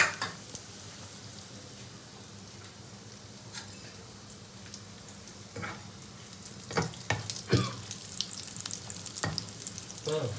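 Fish chops fry in hot oil in a home kitchen, a steady soft sizzle with scattered sharper pops and crackles that grow busier toward the end.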